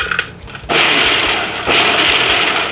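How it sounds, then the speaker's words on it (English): A food processor chopping about half a cup of toasted almonds, loud and continuous with a brief pause before it restarts, alone without talk. "I'm just gonna put about half a cup of toasted almonds in the food processor."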